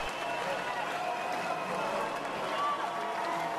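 A dense, steady roar of a cheering crowd of 1,500 people at a heavy metal show in a radio drama, loud and continuous without a break.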